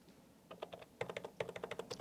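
Rapid keystrokes on a computer keyboard entering salary figures into accounting software, starting in short bursts and then settling into a steady, close clatter with no voices.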